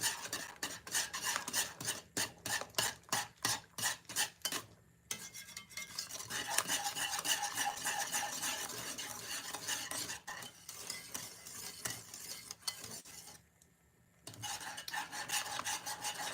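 A spoon stirs vanilla into banana pudding mixture in a bowl, first in a run of distinct rhythmic scrapes, then as a continuous close rubbing swirl with a couple of brief pauses.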